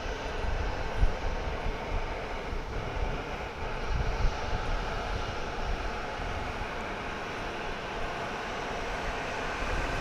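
A Boeing 737-800 at DFW Airport, heard as a continuous broadband jet engine rumble and roar from a moderate distance, steady for the whole stretch with no voices.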